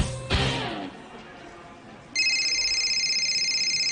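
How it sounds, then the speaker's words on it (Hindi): A phone tone during a call being placed: a steady, pulsing electronic tone comes in about halfway through and holds to the end, after a brief louder burst of sound near the start. "I am dialling your number,"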